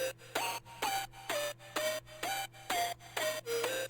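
A buzzy, bright synth lead, a detuned square wave with chorus, plays a steady run of short rhythmic notes with a slightly wobbly, thickened tone, over a low constant hum.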